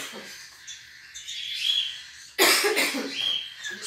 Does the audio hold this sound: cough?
yes